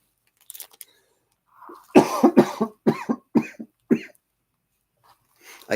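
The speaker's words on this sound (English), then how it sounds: "I keep coughing, but I can't cough hard enough to clear anything out with my rib" A person with a rib injury coughs repeatedly at close range, a run of harsh, strained bursts with short gaps, after some faint throat noises.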